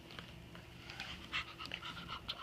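A young child imitates a dog panting, giving quick breathy huffs in an uneven rhythm, fairly faint and close, with no words spoken.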